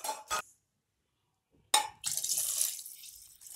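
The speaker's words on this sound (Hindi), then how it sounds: "तो हम दो ग्लास इसमें पानी ऐड करेंगे।" Water poured from a glass into a pot of cooked dal for veg khichdi, a brief clink and drip, then a sustained splashing pour close by for over a second, with no talk.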